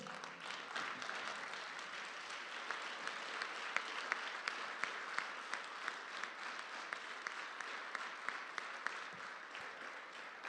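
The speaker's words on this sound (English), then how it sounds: "Maybe you all stand and give a round of applause for Mr. Glenn Wilson." A church congregation at Grace Emmanuel Baptist Church stands and applauds a guest speaker: dense, sustained clapping from many hands, fairly distant and even, with a few sharper individual claps over the wash.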